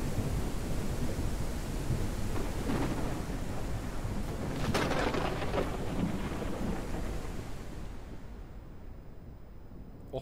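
Steady rain hisses with rumbling thunder and a couple of louder cracks in the middle, fading gradually toward the end, in the video game Ranch Simulator.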